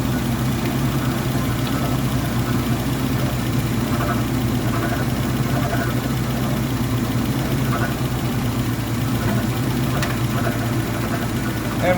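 A car engine idles steadily throughout while brake fluid is topped up and the brakes are bled, a constant low hum filling the whole stretch with no change in rhythm.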